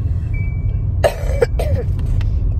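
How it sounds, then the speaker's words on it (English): A person with a bad cough hacks out two rough coughs near the middle, then a few smaller throat sounds over a low rumbling background, close and loud. "it's a bad cough right now."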